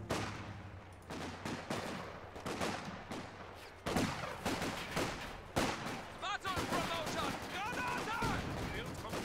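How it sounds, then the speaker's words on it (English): Sten guns fire in rapid bursts during a Company of Heroes battle between British and OKW forces, dense gunfire and explosions clattering continuously with crackling impacts throughout. "They've got the Sten guns out"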